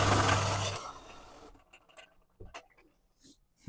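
A wood lathe turns mahogany in a small workshop making wooden kitchen utensils, giving a loud, steady mechanical whir for about a second and a half before it cuts off, leaving faint knocks and taps.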